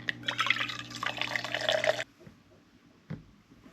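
Water runs into a container while being refilled for a coffee maker, a bright splashing pour that stops abruptly, followed by a single faint drip.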